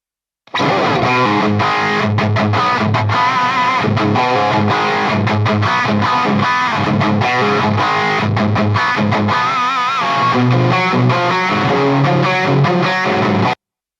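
A distorted electric guitar plays a driving riff, recorded through four combined microphones, full and thick, loud and continuous from start to finish with no talking.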